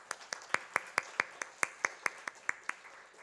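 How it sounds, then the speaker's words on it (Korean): Clapping during a Korean church service, heard as a faint, evenly paced series of sharp claps, about four per second, with nothing else over it. "우리 함께 박수로 축복하겠습니다."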